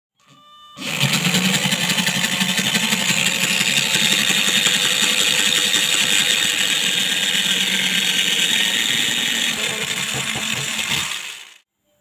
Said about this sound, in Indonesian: sekarang kita lanjut untuk mengebornya untuk dudukan baut pengancingnya